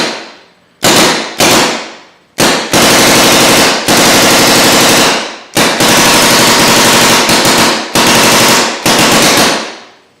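An Ego 7 paintball marker fires in long rapid strings, each volley a buzzing machine-gun-like rattle of pops, separated by short pauses; close, loud and alone.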